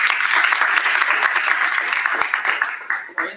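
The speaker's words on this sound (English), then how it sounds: "Please a round of applause for that." A round of applause fills a press conference for World Fringe Day in Orlando, many hands clapping steadily and loudly before the claps thin out and trail away near the end.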